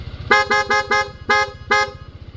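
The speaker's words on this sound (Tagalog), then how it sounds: "Then switch, magpapalit siya sa Corsa horn" Aftermarket Corsa horn on a KYMCO Dink R150 scooter honking five times in short bursts, loud and close, over the steady putter of an idling small engine.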